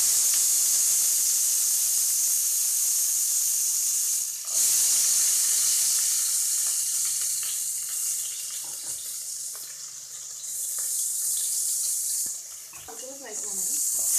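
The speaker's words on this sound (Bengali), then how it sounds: "সেই তেলে আমি এখন পেঁয়াজ কুচিটা দিয়ে দেবো।" Chopped onion hits hot oil left from frying rohu fish, giving a loud, steady close-up sizzle that softens over time, with a few clinks and a voice briefly heard near the end.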